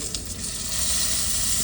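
The fat cap of a steak sears in a hot pan on a stove inside a semi truck, giving a loud, dense, continuous sizzle up close, with no voices.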